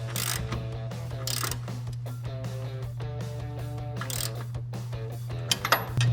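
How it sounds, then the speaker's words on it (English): Ratchet wrench tightening upper control arm bolts on a 2007-2016 Chevrolet Silverado 1500 with forged arms and a lift kit, giving repeated bursts of rapid clicking over a steady hum, with a few metallic clinks toward the end. "Now we're going to finish up tightening up our control arms."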